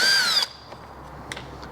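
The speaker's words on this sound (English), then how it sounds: "T25 Torx driver, you got a hidden screw" Cordless power driver with a T25 Torx bit spins out a hidden screw on a cover of a Piaggio BV400 scooter: one short, rising whir for under half a second, followed by faint clicks and handling, close.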